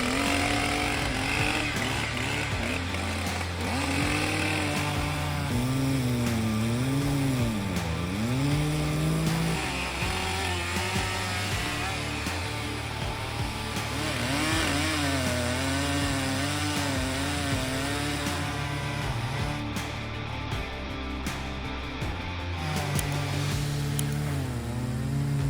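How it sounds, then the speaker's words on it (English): A Stihl MS-881 chainsaw cuts through a large oak stump, its loud, continuous engine snarl rising and falling in pitch as the chain bites, with no talking. "it's great to see the Stihl MS-881 saw can easily cut a large oak stump"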